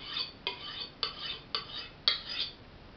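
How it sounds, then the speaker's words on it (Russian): A steel kitchen knife is drawn along the unglazed rim of a ceramic plate, giving five evenly spaced rasping scrapes, each a bright, gritty stroke about half a second long, close and clear with no talk. "этот ободок – идеальное средство для заточки ножа"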